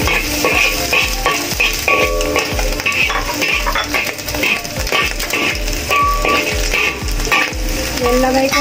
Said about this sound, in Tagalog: maglagay ulit ako ng konting mantika para sa bawang at iba pang ingredients